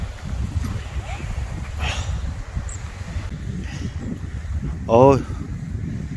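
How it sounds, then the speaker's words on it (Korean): Wind gusting across a golf course in midwinter, a steady low rumble and buffeting against the microphone throughout, with a brief murmured voice and a short whistle-like sound near the end. "바람 또 부네."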